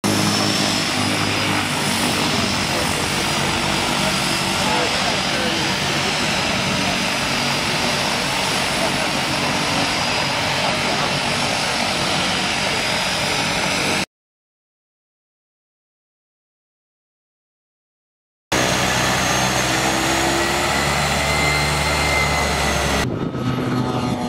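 A propeller skydiving plane takes off at a skydive centre, its steady loud engine drone filling the scene, broken by a gap of silence, then resuming strongly nearby.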